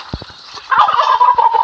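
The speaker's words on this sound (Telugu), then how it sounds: "టర్కీ ఆ సౌండ్లు చేసేది ఇదే" A turkey in a video game lets out a loud, rapid warbling gobble, preceded by a few soft clicks and thumps, the call close and rising sharply.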